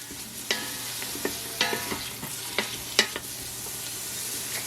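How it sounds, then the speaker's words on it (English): Chopped onions sauteing in oil in the bottom of an Instant Pot, a low steady sizzle broken by several sharp scrapes and taps of a spoon as they are stirred, close up and fairly quiet. "We're going to stir this around to coat all of the onions in the oil in the bottom."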